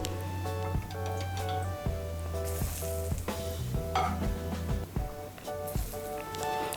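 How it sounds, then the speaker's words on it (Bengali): Batter for Bengali aloo chop being whisked after two spoons of hot oil are added, giving rapid repeated ticking clinks of a whisk against the bowl, close and rhythmic, with no voices. "তেলটা দিয়ে আমি আরেকটু ভালো করে ফেটিয়ে নেব।"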